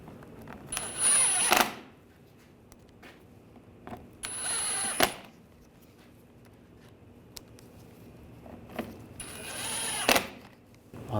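A power drill drives screws into the underside of a 2009-2017 Volkswagen Tiguan front bumper cover, three short whirring bursts spaced a few seconds apart, close and fairly loud, with quiet between.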